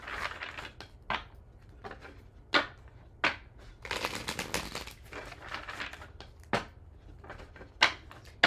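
Tarot cards shuffled by hand during a love reading, giving a run of crisp riffling and papery slaps with sharp taps between bursts, close and fairly quiet with no voices.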